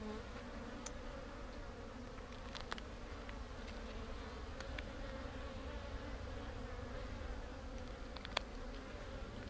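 Honeybees buzz around an open beehive during an apiary inspection, a dense, continuous hum of many bees close by with a few brief clicks and knocks from handling the hive.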